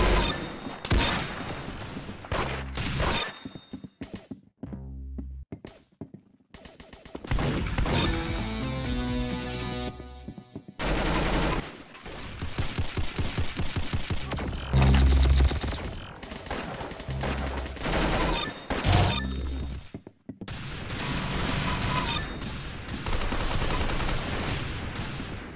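Rapid gunfire bursts and single shots from the Roblox game Arsenal, loud and dense with repeated volleys, brief pauses between exchanges, and a few crashing impacts mixed in.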